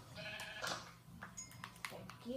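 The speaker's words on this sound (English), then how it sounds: "Hi, sheep." Sheep bleating in the Minecraft video game, short game-animal calls repeating over busy background game sounds while a person talks at points.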